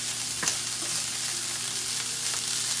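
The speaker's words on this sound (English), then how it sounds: "You fry a little bit the broccoli first." Broccoli frying in a pan, a continuous crackling sizzle with occasional sharper pops and stirring scrapes, close and fairly loud with no talking.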